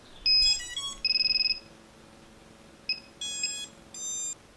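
Drone electronic speed controller chiming through its startup tones after the battery is plugged in: short bright electronic beep sequences, a rapid trilled run, then spaced groups of tones, close and clear with no talk.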